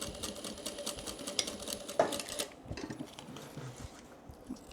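A sewing machine stitches down the sides of a fabric crossbody bag with a short back stitch, a fast steady whirring and rattling run that drops away partway through, leaving quieter mechanical shuffling and faint clicks.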